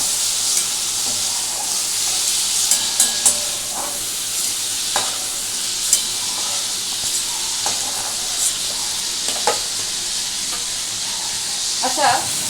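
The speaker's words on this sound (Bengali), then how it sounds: "আমি চিংড়ি মাছটা অল্প করে ভেজে তুলে রাখছি, কারণ বেশি ভাজলে কিন্তু একদম রাবারি হয়ে যাবে।" Prawns fry in oil in a kadai with a steady, close hiss of sizzling, broken by occasional sharp pops and spatters and a few stirring knocks, with no voices.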